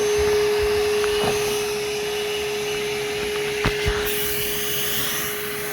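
A Ridgid dual 18-volt cordless vacuum, model HD0918, runs steadily at close range with a loud, even motor whine and airflow roar, with a couple of brief knocks as it sucks debris from a car trunk.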